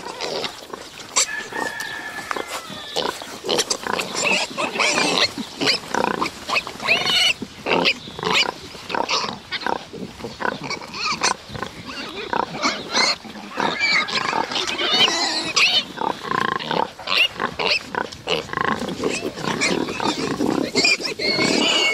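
Piglets squeal and grunt in a dense, continuous chorus while suckling a sow in a crowded farrowing scene on a farm, loud and close with overlapping shrill calls throughout.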